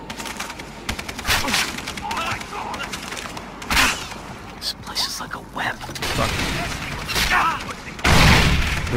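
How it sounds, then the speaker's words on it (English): Enemy gunfire in the shooter game Far Cry 3, repeated loud cracking shots and bursts at irregular intervals, some close and sharp, with someone speaking between them. "Who the fuck is shooting at me?"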